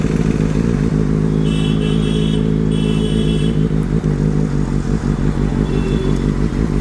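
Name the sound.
Benelli 600i motorcycle engine revving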